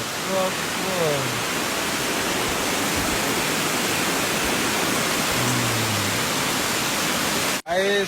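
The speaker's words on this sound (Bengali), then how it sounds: "সব থেকে নিচে চলে এসেছি আমরা এই ঝর্ণাটা দেখতে।" A waterfall roars as a steady, full rushing noise heard up close, with faint voices briefly under it.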